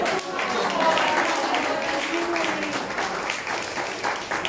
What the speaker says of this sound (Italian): Facciamo anche un grande applauso all'assessore che è diventato padre.